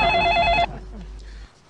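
A telephone bell rings loudly for about half a second, then cuts off, leaving faint room tone with a little background noise.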